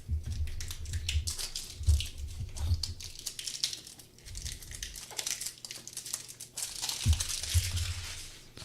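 Cellophane wrapping on a Topps Holiday Mega Box of trading cards crinkles and tears close up, a steady run of crisp crackling with soft low thumps as the box is handled, and no talk.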